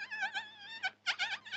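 A cartoon bee buzzes in a thin, warbling whine that wavers in pitch, in a few short bursts separated by a brief pause, clear and close with no talk.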